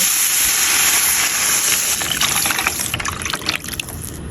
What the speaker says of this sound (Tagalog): Lalagay lang tayo ng tubig